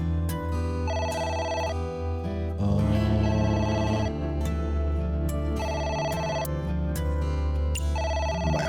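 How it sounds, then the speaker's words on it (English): A telephone rings in AI: The Somnium Files as a repeating electronic trill in bursts, loud and steady over a bed of game music. "It's the phone. Maybe try picking it up?"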